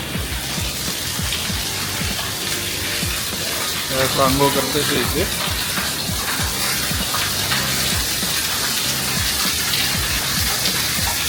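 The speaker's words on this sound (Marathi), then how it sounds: "हे गरम पाणी येतं याच्यामधून" Hot spring water flows continuously from an outlet at a shrine near the Tatopani border village, a steady close gush that runs under someone talking.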